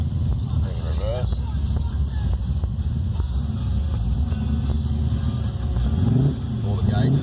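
A Holden VB Commodore with a manual gearbox reverses, its engine droning and whining at close range throughout, with someone talking over it.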